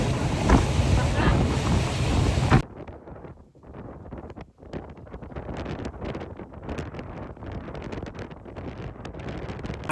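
Boat ride across the Gulf of Saint-Tropez, a steady rush of wind and water noise around the hull, loud at first and then settling into a softer, continuous churning wash.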